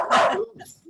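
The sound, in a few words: dog barking after a knock at the door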